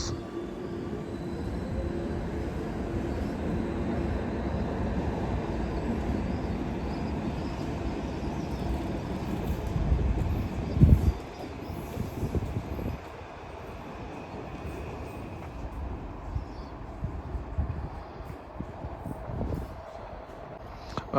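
A Northern passenger train pulls in on the Northumberland line, bound for Ashington, a steady low rumble and wheel noise building to a few louder clunks midway before easing off, heard from the platform at moderate distance.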